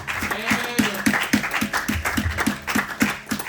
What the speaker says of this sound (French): Non, acclamez bien pour la parole